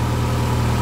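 A car engine idles steadily during a leak check after an oil change, a low even rumble with faint vibration, close and constant, with no talking.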